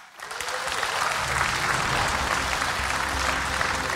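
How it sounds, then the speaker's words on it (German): Studio audience applause on a German quiz show, a dense sustained wash of clapping that swells in within the first half second and holds steady and fairly loud to the end, with no talk over it. "Das klang ein bisschen enttäuscht, dieser Applaus."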